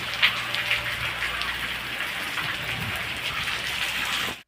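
Heavy rain falls continuously, a close, even hiss with scattered drops spattering on a surface, with no voices.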